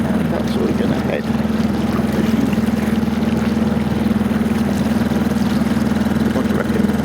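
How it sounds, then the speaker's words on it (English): Dinghy outboard motor chugging steadily on the river Yealm, a constant close low engine drone with rushing water, unbroken throughout. "So we're popping off in the dinghy."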